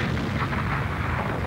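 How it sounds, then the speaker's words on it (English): A construction blast on the Snowy Mountains Scheme in 1949 near the town of Adaminaby, heard as a sustained, loud, low rumbling roar that fills the whole moment without breaks. "the first blast of the Snowy Mountain Scheme shook the town of Adaminaby"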